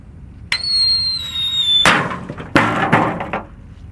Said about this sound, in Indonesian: Lanjut di sini ada mercon blackbuster. Kita nyalakan, lalu kita masukkan ke dalam ya.